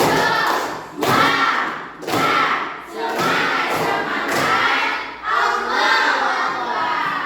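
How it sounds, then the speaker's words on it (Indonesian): Children in a classroom doing a rhythmic spirit clap led by their teacher, repeated bursts of loud unison claps and shouts in a steady pattern, close and lively. "Coba dulu, tepuk semangat"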